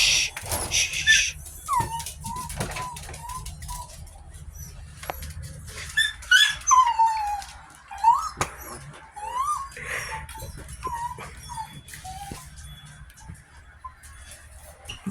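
A puppy whining in thin, high-pitched whimpers and squeaks, some in short clusters and some drawn out, scattered over a quiet background with soft bumps and faint room noise.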